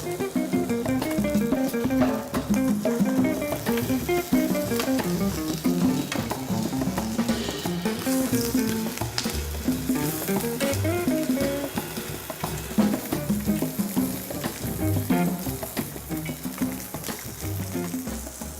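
Red snapper fillet and napa cabbage pan-frying gently: a continuous dense crackling sizzle with fine popping, close and steady throughout, no voices.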